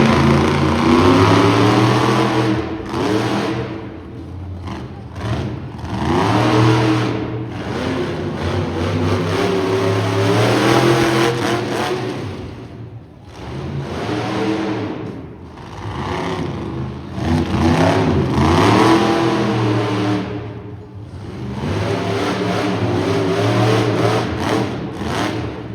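A loud, throaty monster truck engine revs up and down repeatedly at a motorsports show, rising and falling in long surges with short dips between.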